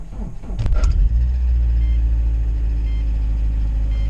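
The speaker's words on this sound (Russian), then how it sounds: "И сейчас вы услышите стороны звук стартера." A Lada Priora's starter motor cranks for a brief moment, then the engine rumbles on loud and steady close by.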